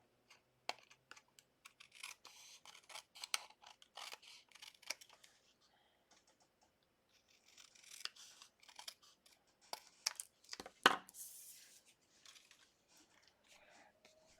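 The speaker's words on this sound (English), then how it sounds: "I'm going to use my paper snips and trim that off" Paper snips trim the overhanging edge of a card-paper Valentine's card, making faint, quiet crisp clicks and snips in an uneven series.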